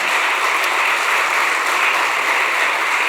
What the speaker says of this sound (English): So we'd like to have a big round of applause for them, please.